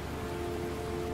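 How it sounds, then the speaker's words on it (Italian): A heavy rainstorm in the video game Heavy Rain hisses as a dense, steady wash of rain, loud and unbroken, with no voices. "c'è una bufera di pioggia"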